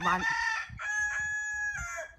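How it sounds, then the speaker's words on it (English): A rooster crows loudly nearby in one long, drawn-out call, followed by a few softer clucks and rustles. "a random cockerel just appeared in here."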